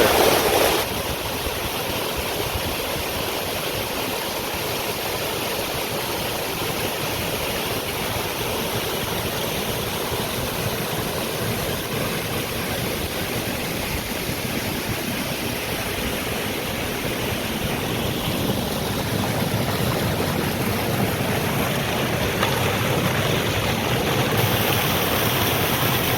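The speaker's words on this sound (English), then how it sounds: "Always beautiful waterfall sounds when you're back here." A waterfall pours into a creek in winter wilderness, producing a steady, loud, full-bodied rush of water that holds constant throughout with no other sounds.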